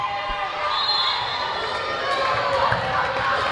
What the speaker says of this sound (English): The crowd erupting.